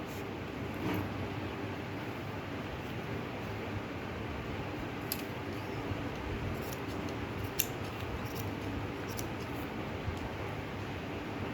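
Scissors cut through a strip of fabric for handmade indoor slippers, making quiet, crisp snips that come in small irregular clusters against a soft background hiss, with no speech.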